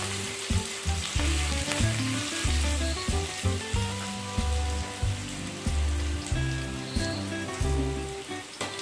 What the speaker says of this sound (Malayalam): ജിഞ്ചർ ഒന്ന് മൂത്ത് വരണം, ചെറുതായിട്ട് ഒരു മൂത്ത മണം വരണം.